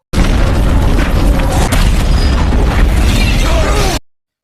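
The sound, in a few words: car exploding, from a film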